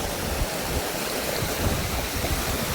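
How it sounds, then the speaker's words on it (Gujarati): A strong river current rushes past in a broad, steady wash of water that fills the whole stretch, close and loud, with no voices over it. "પાણી પણ એટલું તણાસ કરે છે"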